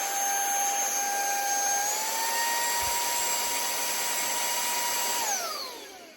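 A small Amazon cordless handheld vacuum cleaner running on high suction, a loud steady high-pitched whine that steps up in pitch partway through and then winds down at the end, close and with no talk.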